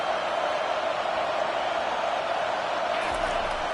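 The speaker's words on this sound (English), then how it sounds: "Listen to this crowd just shaking the girders of this place trying to help their defense." A stadium crowd roars in the College Football 25 video game, a dense steady wash of cheering noise cheering on the defense, held constant throughout.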